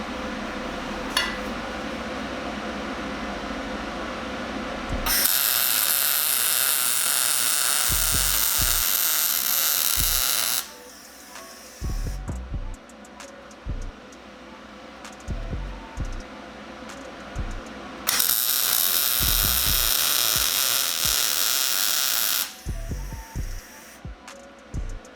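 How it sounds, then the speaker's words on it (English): Flap wheel on an angle grinder smoothing a weld during a car project. Two long, loud, harsh grinding spells are separated by quieter stretches of motor hum and clunks, heard close up without speech. "starting hitting it with the flap wheel"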